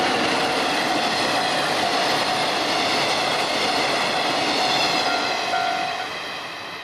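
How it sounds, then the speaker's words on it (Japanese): A red ED79 electric locomotive hauls the Kaikyo rapid train along the Tsugaru Kaikyo Line near a station level crossing, a loud steady roar of wheels and carriages rolling close by, with a faint tone running through it and fading slightly at the end. "赤い ED79 型電気機関車に引かれた快速海峡号です。"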